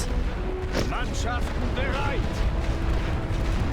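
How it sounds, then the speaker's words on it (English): A World War I Western Front artillery barrage rumbles in a strategy game, deep continuous booms and distant blasts rolling together under brief voice-like calls. "I can suppress this with 1 artillery barrage."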